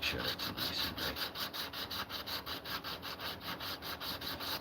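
Steady back-and-forth rubbing of a Japanese-style hand plane blade flat on a sharpening stone to take the burrs off its back, a fast even rhythm of close, continuous strokes with no talking.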